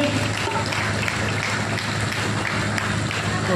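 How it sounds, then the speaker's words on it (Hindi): An audience at a students' Independence Day function in a coaching centre claps steadily and densely, a continuous close wash of applause. "जोरदार तालियों से स्वागत कीजिए"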